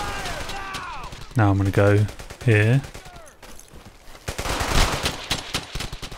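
Rapid squad rifle fire rattles in the World War II video game Brothers in Arms: Hell's Highway, with someone talking over the shots.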